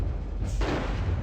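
A heavy mech cannon blast in the video game MechCommander booms out, followed by a rumbling roll of gunfire and a sharp metallic click at the end.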